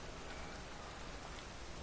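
Steady, dense rain falling in the city of Novigrad in The Witcher 3 on PS4, a constant close hiss of drops with no voices over it.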